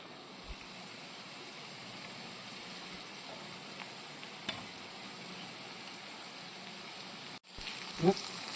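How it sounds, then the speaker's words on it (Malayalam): Sliced onions coated with turmeric powder and salt fry in a hot pan for a potato stir-fry, giving an even, moderate sizzle throughout; near the end a sharp clatter is followed by a louder burst of frying. "ഇനി ഞാനിതിലേക്ക് കുറച്ച് സവാള അരിഞ്ഞിടുക."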